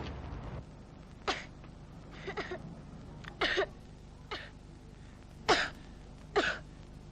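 A person coughs repeatedly, five or six short harsh bursts spaced a second or so apart, close by against a quiet background.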